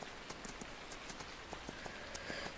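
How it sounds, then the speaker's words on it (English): Rain falls on a farm: a faint, steady patter of drops with scattered sharper taps on a hard surface, continuous and even, with no talking. "because it's raining"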